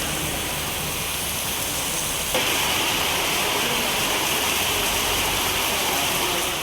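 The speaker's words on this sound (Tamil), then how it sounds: "தஞ்சை மாவட்டம் கும்பகோணம் சுற்றுவட்டார பகுதிகளில் 1 மணி நேரத்திற்கு மேலாக கனமழை கொட்டி தீர்த்தது." Heavy rain pours down around Kumbakonam in Thanjavur district, Tamil Nadu, a dense, steady hiss and roar that continues unbroken and grows slightly louder partway through, with no voices.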